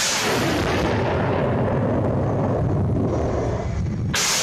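Syrian army artillery and rockets pound ISIS positions as a loud, continuous roaring rumble of sustained bombardment that fills the whole stretch without clear gaps, ending in a sudden sharp burst.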